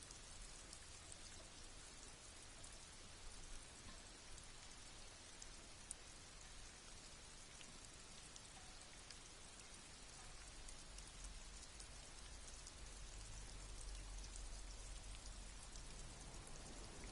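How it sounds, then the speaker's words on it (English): Rain in a video game falls as a dense, even patter, constant and fairly quiet, with a low rumble swelling slightly toward the end and no voices. "Officer, what brings you up here in the rain?"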